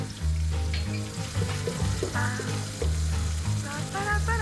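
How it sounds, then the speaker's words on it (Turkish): Butter sizzles and crackles in a frying pan for a creamy potato soup sauce, with steady frying hiss, spoon stirring and clinks close by. "Çorbamızın sosu için tereyağımızı tavamıza alıyoruz."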